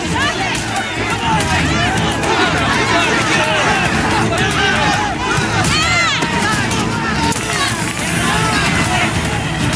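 A violent riot with two crowds brawling in a scene from The Boys, a dense, loud roar of shouting and yelling voices with chaotic cries rising and falling throughout.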